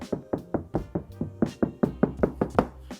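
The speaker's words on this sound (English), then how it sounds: "this is what the door sounds like before you add the sound mat" Knuckles rap about a dozen times in steady rhythm on a bare GMC shop truck door panel, its inner skin done but outer skin untreated before sound mat is added, giving close, hollow, resonant knocks alone.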